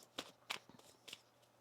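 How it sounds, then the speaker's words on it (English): A tarot card deck being shuffled by hand, heard as a few soft, brief riffling bursts spaced apart against a quiet background, with no talking. "One more shuffle here."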